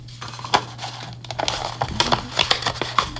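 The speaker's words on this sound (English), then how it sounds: "What I usually do is just kind of fold it" A round paper perfume blotter disc is folded and creased by hand, giving close, irregular crinkles and crisp paper snaps over about three seconds.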